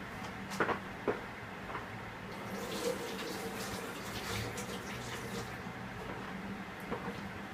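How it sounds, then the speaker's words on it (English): Tap water runs steadily over a fountain pen nib being rinsed at a sink, a continuous moderate splash with a few brief knocks near the start. "I'm gonna go rinse the nib off"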